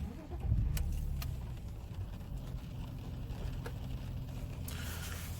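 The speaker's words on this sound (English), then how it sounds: "When I turn the engine on," A BMW E39 530i that had not run since 2016 starts up, a close low engine rumble that rises briefly and then settles into a steady idle with a few faint clicks.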